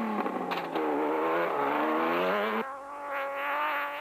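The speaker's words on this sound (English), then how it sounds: "The glorious sound of the V6 engine Nissan hardbody, charging hard and in full song." A Nissan Hardbody V6 race truck engine revs hard during the 2005 Sun City 400 race, pitch climbing steadily through a gear, dropping briefly, then climbing again, loud and close.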